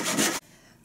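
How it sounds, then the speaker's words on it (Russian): A hand saw stroke through wood guided in a miter box gives a loud raspy scrape that stops abruptly, followed by quiet. "И так вот пилим до конца."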